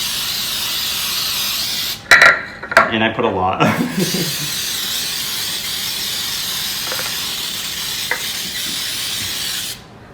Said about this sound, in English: so I just like to spray my tins